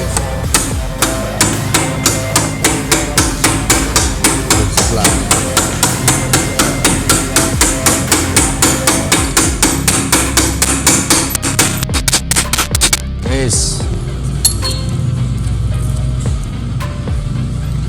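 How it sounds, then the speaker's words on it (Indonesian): A hammer strikes steadily, dozens of sharp metallic taps in an even rhythm, driving a bearing into the CVT gearbox housing of a Honda Beat FI scooter; the blows stop near the end, leaving a quieter workshop hum. "Tidak ada alat khusus kecuali palu"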